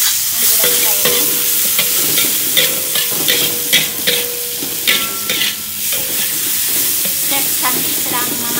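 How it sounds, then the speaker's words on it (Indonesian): Garlic, chili and sliced tomato sizzling loudly as they are stir-fried for spinach soup, with a steady bright crackle broken by repeated spatula scrapes and clacks against the pan. "Kita masukkan bawang putih, cabai, dan tomatnya yang sudah kita iris."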